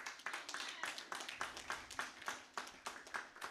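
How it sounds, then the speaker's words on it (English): A church congregation at a Friday service claps in a quick, slightly uneven rhythm, a modest round of applause heard fairly close with no voices over it. "So give her a round of applause."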